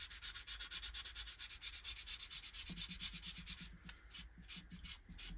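Sandpaper rubs back and forth over a boxwood skull carving in quick, even strokes, a close scratchy rasp that pulses steadily throughout with no talking.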